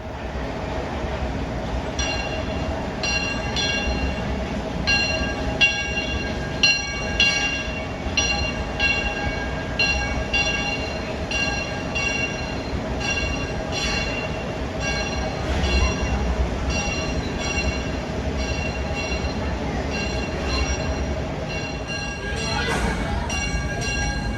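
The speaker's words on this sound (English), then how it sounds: "these steam locomotives and this great railroad that operates daily at the Six Flags over Arlington Park in Arlington" Steam locomotive on the daily railroad at Six Flags Over Texas in Arlington, rumbling and clanking steadily through the clip with faint wheel squeals, bell-like rings and a brief whistle-like burst near the end, over crowd noise.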